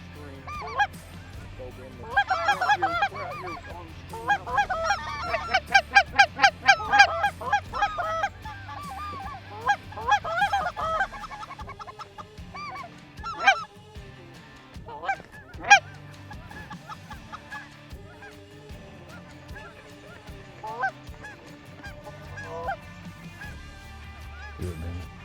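A flock of lesser geese honks steadily as the birds drop in toward decoys during a hunt, with layered calls rising and falling over about twenty-five seconds and voices speaking between them.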